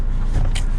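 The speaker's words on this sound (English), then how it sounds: "now let's drive the Clio 5." A Renault Clio 5 starts to drive off, heard as a loud close low engine rumble from inside the car with a brief higher whir partway through.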